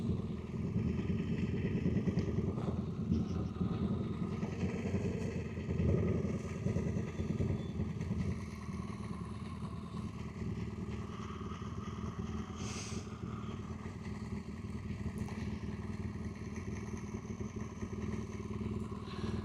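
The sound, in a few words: motorcycles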